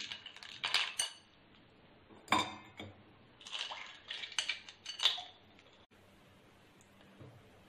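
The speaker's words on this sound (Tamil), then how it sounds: "அப்புறம் ஐஸ் க்யூப்ஸ்," Ice cubes drop into a glass of lemon juice with sabja seeds, making several sharp clinks and rattles in scattered bursts, close and fairly quiet against a hushed background.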